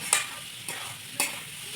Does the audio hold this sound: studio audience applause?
no